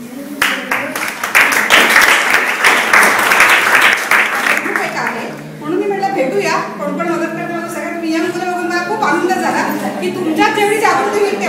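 Applause at the Wikipedia Summit in Pune, a burst of clapping from the audience for about five seconds that fades as a voice takes over and talks over the rest.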